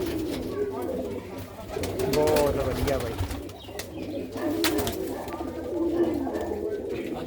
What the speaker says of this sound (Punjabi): ਚੰਗੀ ਨਸਲ ਦੀ ਕਬੂਤਰੀ ਆ